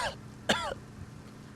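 A woman gives a few short, harsh coughs or throat-clearing bursts, close by, separated by a brief pause, then quiet room tone.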